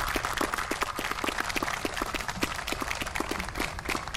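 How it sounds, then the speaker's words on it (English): Steady, dense applause from the audience at a Navy retirement and change-of-command ceremony, with many overlapping claps that stay even and sustained throughout, and no speech. "Please join me in a round of applause."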